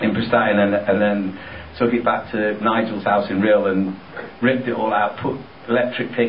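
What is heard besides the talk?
No distinct noise like a dog, phone or traffic.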